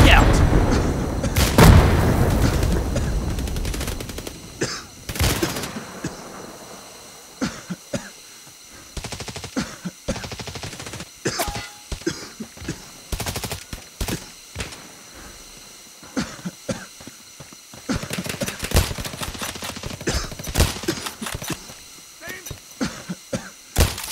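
Gunfire cracks in scattered bursts during a Hired Ops firefight, with a loud grenade blast early on. Shots repeat at irregular intervals, some close and sharp, others quieter, and occasional voices come through between them.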